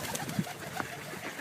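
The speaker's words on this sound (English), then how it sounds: "There's the pigeons as well." Pigeons in a park give a soft, low coo near the start, with a few faint bird calls scattered through quiet outdoor background.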